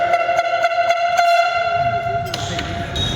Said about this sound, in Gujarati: બેસ્ટ જે હોર્ન આવ્યો છે